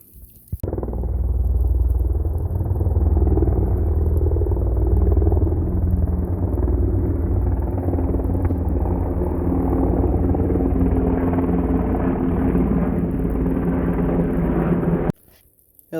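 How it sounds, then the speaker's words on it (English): A helicopter or large plane flying overhead near Fort Bragg, a loud continuous low rumble and drone that holds steady for about fifteen seconds before cutting off. "Helicopters and big planes like that are pretty common."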